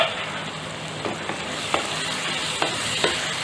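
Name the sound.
stirring parwal (pointed gourd) shaak in pan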